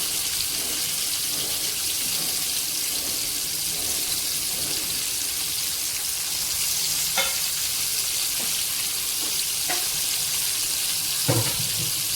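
Stuffed bitter gourds (karela) fry in a pan with a constant hissing sizzle, joined now and then by soft scraping and clinking of a spatula, with no talking.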